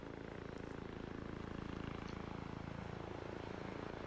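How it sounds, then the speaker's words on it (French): Helicopter passing overhead in the military video game Arma 3, a quiet, steady rotor drone with a low, even engine rumble that holds throughout. "Hélico Nord, ça nous survolait."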